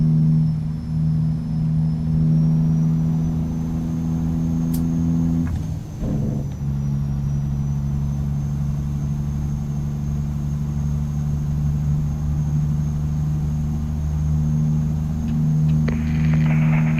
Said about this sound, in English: I do really like this engine sound though